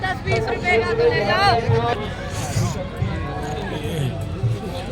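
Crowd of pilgrims at Mahakumbh on a Sunday morning, a continuous hubbub of many overlapping voices and chatter close around, with louder nearby voices rising out of the babble.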